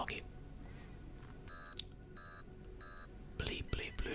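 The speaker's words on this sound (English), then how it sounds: "My walkie-talkie is trying to talk to me." A walkie-talkie in a point-and-click puzzle video game beeps in three short, evenly spaced electronic bursts, fairly soft, followed by a louder burst of noise at the end, with faint whispering heard under the tones.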